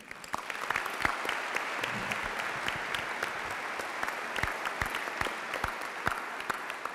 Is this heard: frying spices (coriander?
no